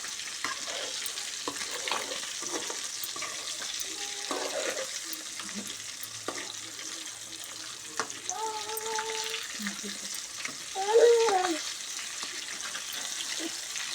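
Fish pieces sizzle and fry in hot oil in a pan, with faint stirring scrapes and utensil clinks over a soft steady crackle at low level.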